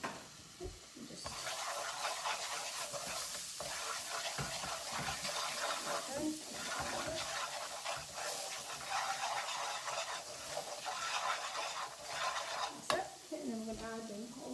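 Potatoes are tossed and stirred in a pot, giving a bright sizzling hiss with scraping, clattering stirs throughout, close and moderately quiet, with a voice briefly near the end.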